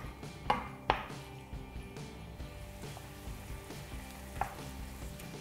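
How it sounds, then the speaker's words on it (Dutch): Chicken thighs fry in a pan with a steady sizzle, broken by a few sharp clinks of a utensil against the pan as the pieces are stirred. "En dit bakken we een minuut of 5 tot 8, totdat de kip rondom bruin begint te kleuren."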